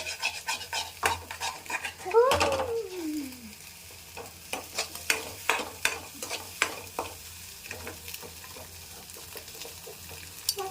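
A spoon stirs and mixes egg rice in a frying pan, giving a series of sharp scraping and tapping strokes over a faint sizzle, with one brief squeaky scrape early on.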